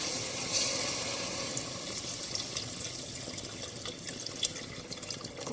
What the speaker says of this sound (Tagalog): ilalagay na po natin yung ating chicken stock